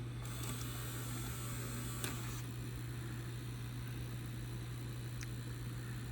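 A 1984 Funai VP-1500 VHS video cassette player runs its mechanism with a steady low motor hum, a few faint clicks and whirs from the transport early on, and quiet room noise throughout.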